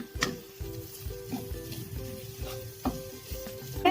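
Chopped cooked carrot and beetroot go into a sizzling pan for veg cutlets, with repeated soft scraping and stirring knocks over a continuous fry; no talking.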